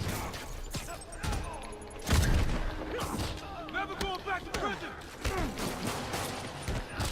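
Rocket launcher blasts and pistol shots ring out in the Marvel Spider-Man PS4 video game, a heavy boom followed by clattering impacts and whooshing effects in a busy, chaotic fight mix.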